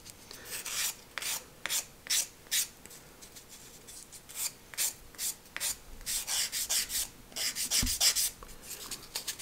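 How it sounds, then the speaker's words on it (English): Sanding a small wooden part of a catapult glider by hand, a run of rapid rasping strokes in close bursts, steady and near, with no talking. "And now let's sand this guy down a little bit."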